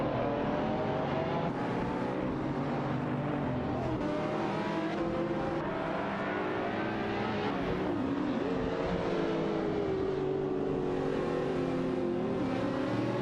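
A racing car dashing away, a loud sustained engine roar with rising and falling revs that sweeps upward as it accelerates, continuous and close, with no voices.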